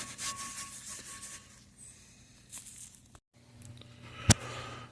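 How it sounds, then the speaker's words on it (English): A Scotch-Brite pad rubs and scrubs across a used truck wheel from a 2002 GMC Sierra after paint stripping, in uneven scratchy strokes with pauses, ending on a sharp knock. "I'm going to scrub it with this Scotch-Brite pad"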